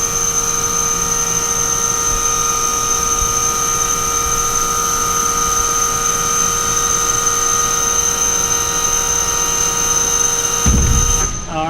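Hydraulic boom arm on a Honeywell trailer lowering, a steady loud motor and pump whine with fixed tones running unbroken for about ten seconds, then a brief thump and shift as the arm reaches its automatic stop.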